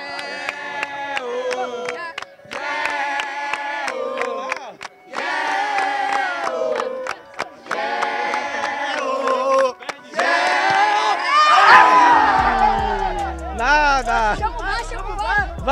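Crowd at a neighbourhood football match in Engenho Velho de Brotas, Salvador, shouting and cheering continuously and loudly, with voices calling out over the din and a rising burst of excitement near the end.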